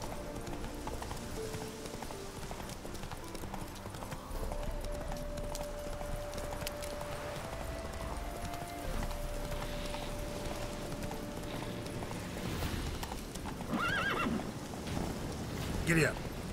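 Horse hooves clip-clop steadily in Witcher 3, a continuous galloping rhythm at moderate loudness under a low game ambience, with a brief busier burst near the end.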